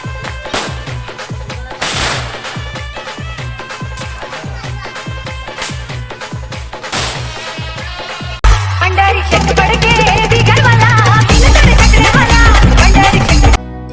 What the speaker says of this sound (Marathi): आम्ही सर्व इथे फटाके फोडत आहे